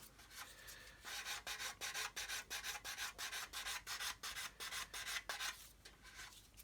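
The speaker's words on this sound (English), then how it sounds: "what I'm doing is just sanding straight, but I'm going like this around the wingtip" Sandpaper rubs over the wingtip of a model aircraft in quick, even strokes, about two dozen close rasping passes in a steady rhythm after a brief pause, with no talking.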